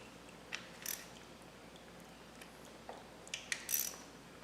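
An oil drain bolt being snugged back up on a Honda CRF dirt bike produces faint, sparse metallic clicks and ratchet ticks in quiet surroundings, a few scattered bursts close by.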